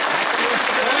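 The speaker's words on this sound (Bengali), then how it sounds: "কত জোরে হাততালি দিতে পারেন দেখি" A festival audience at a religious birthday celebration claps hard on request, a dense, loud burst of many hands applauding together without pause.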